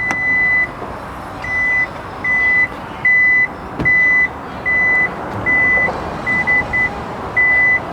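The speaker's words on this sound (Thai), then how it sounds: "เวลาปิดฝาท้ายมันจะเป็นสวิตช์แบบไฟฟ้าครับ" Power tailgate on a used Toyota Alphard AH30 closing electrically, a loud, evenly spaced warning beep repeating about ten times over a low motor hum, with no talking.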